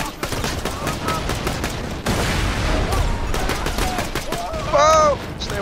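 Rapid bursts of gunfire rattle through a Borderlands 2 firefight, with continuous automatic shots, a heavy blast midway and a few pinging ricochet-like tones near the end.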